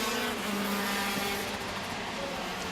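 KZ2 racing karts accelerating during a final at a kart race: a dense, buzzing two-stroke engine roar, steady and loud for the whole stretch, with a faint rising tone near the end.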